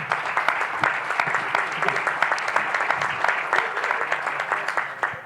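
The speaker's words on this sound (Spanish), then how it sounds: "se merece un fuerte aplauso por este ejercicio tan importante" An audience at an economics forum breaks into applause, with sharp, dense clapping at a steady level that carries on for several seconds without talk.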